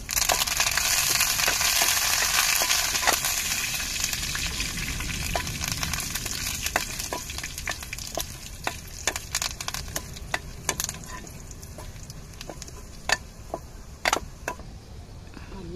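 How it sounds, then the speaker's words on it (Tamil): Curry leaves crackle and spit in hot oil for a Tamil-style mutton curry, a dense sizzle with many sharp pops scattered across the clip, loud at first and easing slightly, with no voices. "இப்போ கருவேப்பிலையை சேர்த்துக்கிருவோம்."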